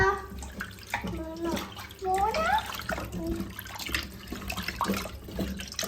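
Water splashes and sloshes around while a young child squeals and chatters excitedly, with other voices talking nearby.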